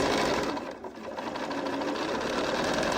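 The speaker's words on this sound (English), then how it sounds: "Stitch the red and the white together. Just sew all the way down, and you don't really need pins." Sewing machine running steadily as it stitches red and white quilt strips together, a continuous close whirring hum with rapid needle chatter and a brief dip partway through.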